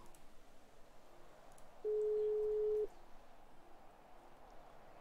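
A single steady electronic phone tone, about one second long, sounds in a GTA roleplay game after a call cuts off, clear over quiet background hiss.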